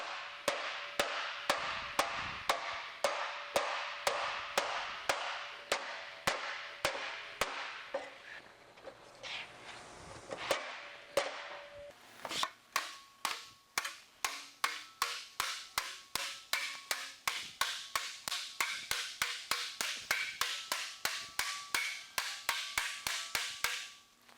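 Sheet metal being shrunk for an extreme reverse curve, struck by a long run of sharp, evenly spaced hammer-like blows, close and crisp, pausing briefly midway before resuming at a faster pace.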